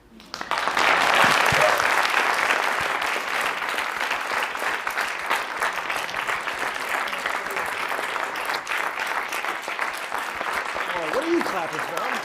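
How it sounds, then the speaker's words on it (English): A large audience claps steadily and loudly for about twelve seconds at an evening outdoor-access gathering, the applause swelling quickly and holding dense, with voices faintly talking beneath it. "what are you clapping for?"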